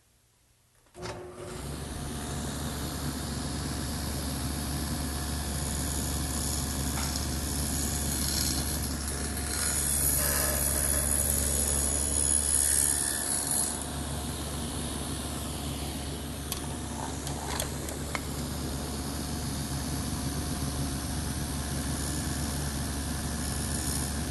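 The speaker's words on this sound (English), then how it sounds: "I'm going to do it on the table saw with my dado head and the T-square" A table saw fitted with a dado head starts up and cuts grooves in small pieces of wood guided by an extended T-square, giving a loud steady motor whine with slight load changes as the cut proceeds, and no talking.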